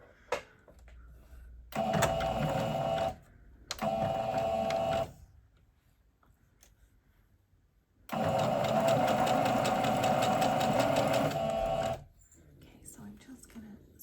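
A sewing machine stitches a curved raglan T-shirt seam in three runs, two short bursts then a long steady one, near and loud, with faint low voice murmur in the quiet gaps between.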